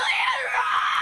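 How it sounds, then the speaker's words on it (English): A woman screams in terror, loud, shrill and sustained for the whole second, in the horror film Terrifier 3. Her cry sits close and harsh, with a slight rising and falling wail and no other sound around it. "All that tally thwacking wakes Jennifer up and she starts screaming in earnest."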